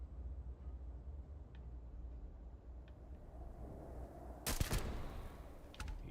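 A single loud gunshot in Starfield cracks out over a low rumbling ambient bed, followed by a fainter shot a second later.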